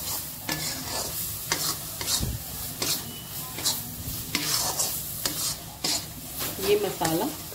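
Masala being stirred and roasted in a pan for stuffed parwal curry, with repeated scraping strokes of a spoon over a steady sizzle, close and fairly loud throughout.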